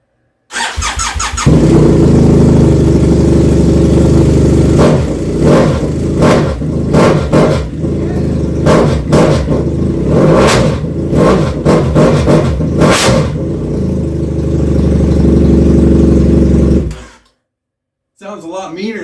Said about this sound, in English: I thought it would be fun just to light it up for a minute and see what it sounds like without a muffler on it